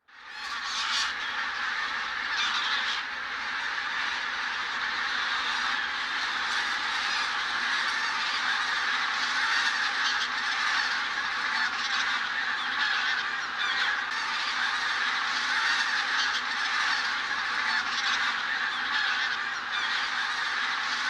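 A large flock of geese honks continuously and loudly, a dense overlapping clamor that stays steady throughout.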